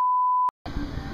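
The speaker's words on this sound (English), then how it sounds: "Beep that as many times as you want." A steady, pure censor beep tone sounds for about half a second, then breaks into a short silence before loud room noise picks up.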